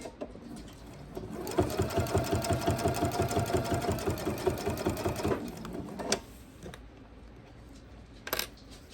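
A sewing machine stitches binding onto a quilt with a scant quarter-inch seam, a fast, even run of mechanical thumps lasting about four seconds, then a pause and a few faint clicks.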